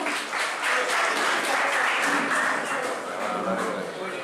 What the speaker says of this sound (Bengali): জোরে করতালি হয়ে যায়